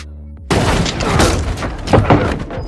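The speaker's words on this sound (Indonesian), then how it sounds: "satu tembakan mengenai perut Dan" A gunshot from the western film Jane Got a Gun: a sudden, loud blast that cuts in after a brief quiet lull and is followed by dense, rumbling noise and further sharp cracks.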